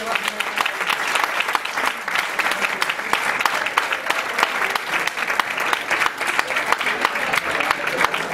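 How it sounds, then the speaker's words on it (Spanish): Sustained applause from a big band swing and funk concert audience for the drummer, dense and steady throughout with no break. "Un fuerte aplauso de la imagen de la batería."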